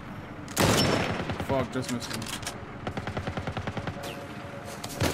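Gunfire in The Last of Us Part 1 suburbs fight: a loud opening blast followed by a rapid series of sharp shots, close and punchy, with someone talking and swearing over the shooting.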